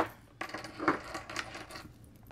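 Dice rattle and clatter briefly on a hard surface at close range, one short tumbling roll with a bright click, fairly quiet and with no speech.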